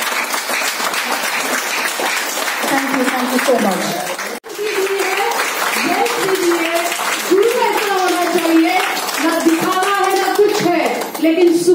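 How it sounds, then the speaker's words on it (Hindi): Audience applause at a wellness seminar, clapping steady under someone speaking over a microphone who keeps talking throughout. "इनके लिए भी तालियां होना बहुत जरूरी है"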